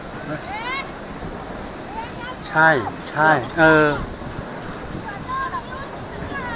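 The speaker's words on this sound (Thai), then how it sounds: "เสียงลมอ่ะดังมาจาก เสานี่ปะ ใช่ เสียงลมข้างนอก" Outside wind whooshes past a pillar in Phetchabun, a constant breathy rush underneath a few short spoken replies.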